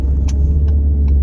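Inside a moving car, a steady low engine rumble carries loudly and evenly, with a few short clicks or taps rising above it.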